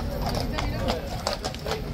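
Hooves of a large police horse clip-clopping at a slow walk, steady rhythmic strikes partly masked by crowd chatter and people talking nearby.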